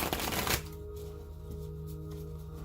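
Tarot deck being shuffled, a brief burst of riffling cards at close range that stops abruptly and gives way to a faint steady hum of background tone.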